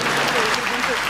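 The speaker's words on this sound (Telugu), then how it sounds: "నిజమన్న వాళ్ళు చప్పట్లు కూడా దేవునికి స్తోత్రం చేద్దాం" A church congregation claps in praise to God, a brief steady burst of applause mixed with a voice speaking.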